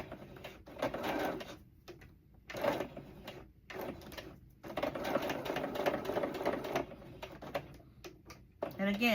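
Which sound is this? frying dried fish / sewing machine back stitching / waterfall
sewing machine back stitching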